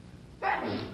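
A single sharp, breathy sneeze bursts out after a short quiet moment, close and fairly loud.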